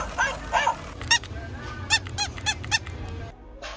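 A small dog in an outdoor market gives several short high squeaky yelps and whines over steady crowd and street noise, close by and fairly loud.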